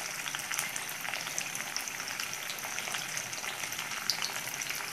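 Sardines fry in oil in a covered pan, cooked in a rustic home style, giving a steady, even sizzle and crackle with no talk over it.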